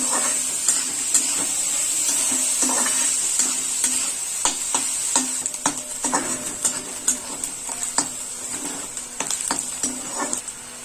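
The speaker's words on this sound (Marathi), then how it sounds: "आपल्याला कांदा ब्राऊन करून घ्यायचा आहे." Onion frying in a pan for dhaba-style masala mushroom, a loud steady sizzle and hiss broken by repeated scraping stirs of a spoon that grow more frequent toward the end, with no talking.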